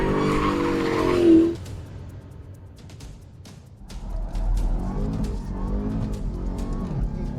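A Dodge Hellcat Redeye slides with its rear end losing traction, tires squealing loudly over a throaty engine roar that fades and then swells again, with a voice briefly heard at the start.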